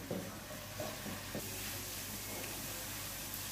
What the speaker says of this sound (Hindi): ये देखें ऑयल गर्म हो गया और लहसन जो है ये फ्राई होना